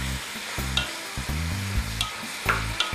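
Onions sizzle and fry in a pan while a spoon or spatula stirs them in repeated scraping strokes, close and steady, with no voices.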